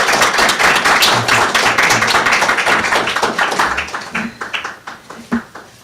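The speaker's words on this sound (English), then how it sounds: "we really want to give Dr. Rick Moss a round of applause" Audience applause for Dr. Rick Moss at a cystic fibrosis discovery series talk: dense, steady clapping from a group that holds for several seconds and then thins into scattered, fading claps.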